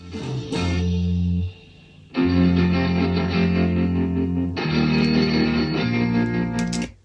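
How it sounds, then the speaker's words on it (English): Heavily effected electric guitar chords swell in and sustain with distortion and chorus, three long washes of sound separated by a brief quiet dip. "it's like a cross between strumming the guitar and guitar swells at the same time"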